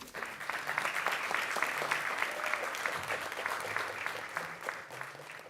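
Audience applause welcoming composer Ofer Ben-Amots, a steady, dense clapping from a large crowd that holds evenly throughout without pause.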